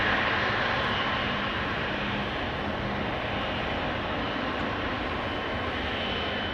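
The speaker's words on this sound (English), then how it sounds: "That's a 737 using cheater's lane to get the hell out of here." A KLM Boeing 737 jet takes off at Amsterdam Schiphol Airport, a steady, loud broadband engine roar that holds level throughout without speech.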